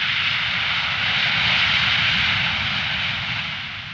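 SEPECAT Jaguar military jets roar low over the Scottish coast near RAF Lossiemouth, a loud, broad rushing engine noise that swells then begins fading away at the end.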